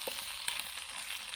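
Bacon frying in a cheap mess kit pan, a continuous soft sizzle with light crackling, heard up close and without any voices.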